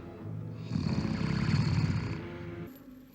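A man snores loudly in his sleep, a deep rumbling drone that swells steadily for a few seconds before easing off, close and alone with no talking.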